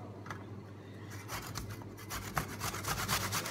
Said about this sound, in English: I'm going to grate onto the board.